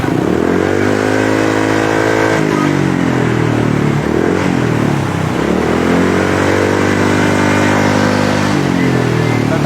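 Motorcycle with a chambered power pipe exhaust, its engine revving and held at steady speeds, a loud, close, buzzing drone that dips and climbs between rev levels without any talking.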